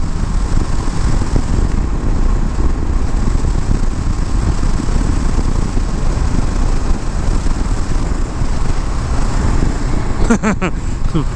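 A motorcycle engine running continuously while riding on a road, a loud steady droning rumble with constant wind and road noise and no break.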